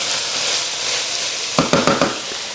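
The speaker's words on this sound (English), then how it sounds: "I'll cook this until the meat's browned and broken up a little bit" Ground meat seasoned with pepper browning in a pan, a steady close sizzle with a few scraping knocks of a utensil breaking the meat up near the end.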